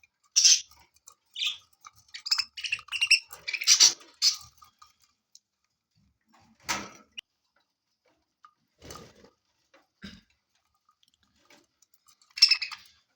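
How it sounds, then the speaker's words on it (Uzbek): Pet budgerigars kept indoors give short, high chirps and faint clicks, busy at first and then sparse, with quiet gaps between calls. "Asosan bu malagoylarimiz xudo xohlasa 2 hafta bo'lgan qushlar bilan 3 oy bo'lganiga 2 hafta bo'lgan qushlar mana hammasi yaxshi yeyapti"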